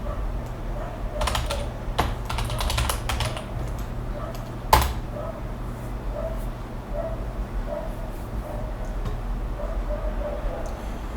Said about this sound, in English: Here, we'll just type it in.